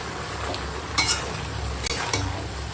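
Mutton marinated with onion, ginger, garlic and yogurt fries in a pan with turmeric and Kashmiri chili powder, giving a steady close sizzle broken by a few louder scraping stirs.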